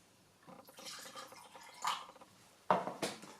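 Water poured into a bowl of PVA glue, a few soft splashing pours in short bursts, close and fairly quiet, with a sharper gush near the end.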